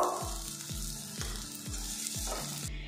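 Pointed gourd pieces frying in oil make a quiet, steady hiss and sizzle with a regular series of soft low thumps throughout. No one speaks.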